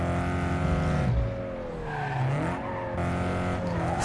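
A VW GTI sliding through corners in Need for Speed Underground 2, with steady engine drone rising and falling in pitch and light tire squeal, continuous and close.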